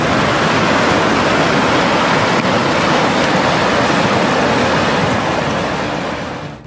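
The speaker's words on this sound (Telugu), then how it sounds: "గజపతి జిల్లా కాశీనగర్ వద్ద వంశధార నదీ ప్రవాహం క్షణక్షణానికి పెరుగుతోంది" The flooded Vamsadhara river at Kashinagar in Gajapati district, Odisha, swollen by heavy rains, rushes past in a loud, dense, unbroken roar of churning water that fades slightly at the very end, with no voices.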